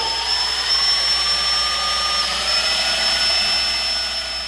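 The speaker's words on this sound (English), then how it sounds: "So I'm just going to drill each of the holes on center and roll with it." A steady, continuous drill whine with a high tonal pitch, close by and unbroken for several seconds, drilling holes in a Honda CBR1000RR motorcycle fender.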